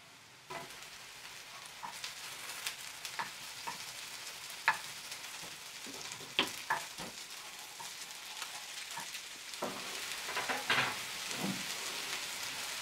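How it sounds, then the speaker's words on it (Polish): Fish meatballs fry in a little fat in a pan, giving a steady low sizzle broken by scattered crackles and pops close by, with no talk. "Klopsiki krótko podsmażę na niewielkiej ilości tłuszczu."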